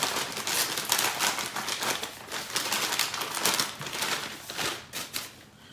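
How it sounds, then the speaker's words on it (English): Continuous rustling and crinkling of a paper bag being shaken with flour inside, with irregular bursts of crackly, papery noise, close to the microphone. "And kind of shake it up a little to make sure it's well mixed up in there."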